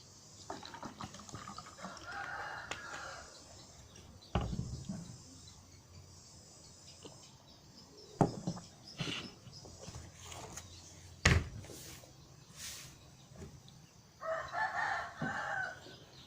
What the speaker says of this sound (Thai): มันจะเสียงไก่เสียงกาเนี่ยค่ะ